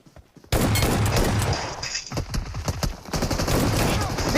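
Bursts of rapid automatic gunfire in the battle royale game PUBG crackle loudly and close, several volleys in quick succession with a brief lull near the middle.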